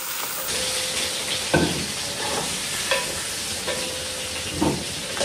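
Pochero ingredients frying in oil left from sausage and pork, a steady close sizzle and hiss broken by several stirring scrapes and knocks of the spatula against the pan.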